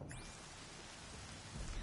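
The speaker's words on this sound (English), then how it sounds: "Oh god, it's raining." Steady rain falls in Horizon Zero Dawn, a dense, even wash of hiss at a moderate level with no voices, swelling slightly louder near the end of the short stretch.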